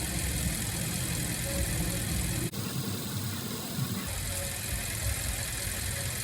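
A Chevrolet Camaro SS sits idling with its air conditioning running, giving a steady low rumble with a brief dip partway through and no voices.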